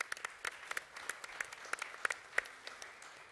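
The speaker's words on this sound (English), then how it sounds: "Round of applause, please." Audience applause at a music industry conference panel. Sparse, fairly faint clapping with distinct individual claps at a steady rhythm.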